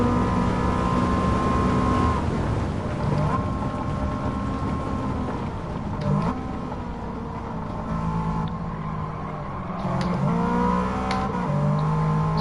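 A car engine droning steadily while driving Trial Mountain in Gran Turismo 7, a continuous close hum with rising and falling revs and occasional gear shifts.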